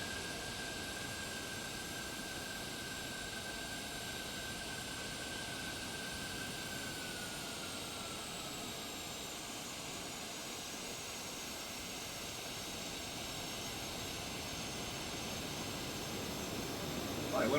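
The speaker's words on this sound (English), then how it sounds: "we're going to shut down the engine in a second" Jet engine of a Citation business jet in a flight simulator game winding down during a shutdown, a steady whining roar whose high tones slowly glide downward over a long stretch, loud and continuous.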